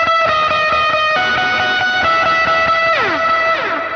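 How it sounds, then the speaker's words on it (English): An electric guitar plays through a worship pedalboard with distortion and an amp drive switch engaged, giving saturated, breaking-up chords with sustained notes and a pitch dive near the end, loud and alone. "you can hear that nice saturation and breakup in the amps when you're using it for higher gain things"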